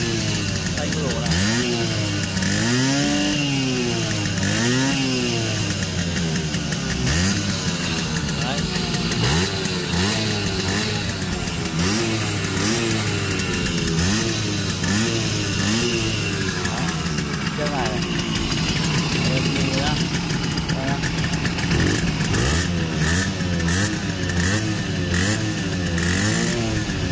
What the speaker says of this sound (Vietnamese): Đây em sẽ nghe tiếng máy của chiếc này nhá các bác nhá.